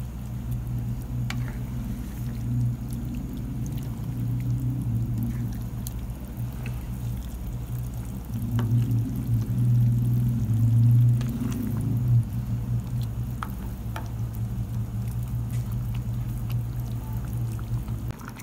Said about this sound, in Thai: จูนจะเคี่ยวไปเรื่อยๆก่อนนะคะ